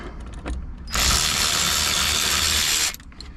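A ratchet backs off suspension bolts on a 1998 Mustang Cobra during a rear lower control arm install, giving a loud, steady close-up clicking burst of about two seconds, with quieter handling noise before and after.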